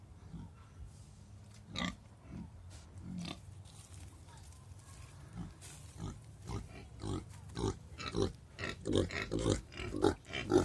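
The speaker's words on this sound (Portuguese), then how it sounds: "Criação de porco." Purebred pigs on a pig farm grunting and oinking in repeated short bursts, close and increasingly frequent toward the end, over a quiet low background rumble.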